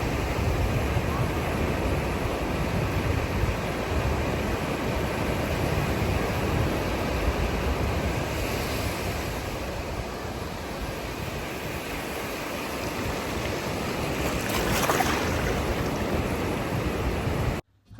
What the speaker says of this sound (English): here's some ocean waves ASMR